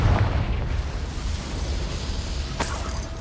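A Confringo fire spell bursting in the video game Hogwarts Legacy, heard as a rumbling explosion with a sharp crack near the end.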